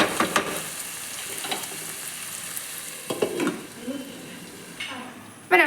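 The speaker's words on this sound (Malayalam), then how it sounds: "അടച്ച് വെച്ച് തക്കാളി ഒന്ന് വേവിക്കാം." Chopped tomatoes and onions cook in a covered pan for biryani, giving a soft steady sizzle with occasional scrapes and clinks from a utensil, and a sharp lid or pan knock at the end.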